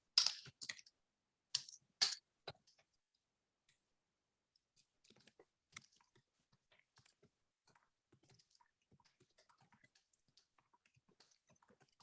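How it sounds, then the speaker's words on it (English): Quiet typing on a computer keyboard: a few sharp bursts of key clicks at the start, then a scattered run of faint, irregular taps, heard close and without talk. "I'm gonna type him the questions"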